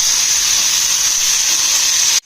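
Flat beans (shim) fry in oil over high heat with salt and turmeric, a loud steady sizzling hiss that cuts off abruptly at the end.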